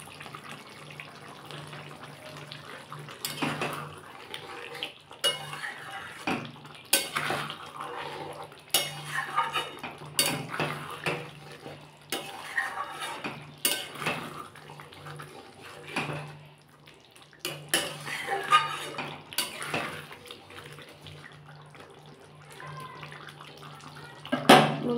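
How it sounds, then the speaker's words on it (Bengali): Fried potatoes get stirred into a coriander chicken curry in a pan, giving a steady run of scraping and clinking of a spoon against metal with faint background hum and no talking. "এবার ভেজে রাখা আলুগুলো এর মধ্যে দিয়ে দেবো।"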